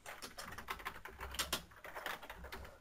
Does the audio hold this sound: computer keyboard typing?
yes